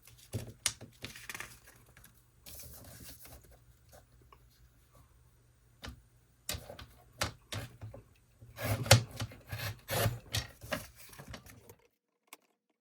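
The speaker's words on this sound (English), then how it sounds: "I'm kind of putting the blade down in the center here, because sometimes if you start trying to cut from the end, it will just smush it together" A craft blade slicing a thin sliver off a paper tag, pressed down from the center, gives close, quiet scraping clicks and short rasps in irregular bursts, with no talking.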